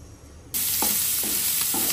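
Chinese chow ho fan noodles are stir-fried in a pan. After half a second of quiet, a loud sizzle comes in and holds steady, with three rhythmic scraping stirs of the spatula.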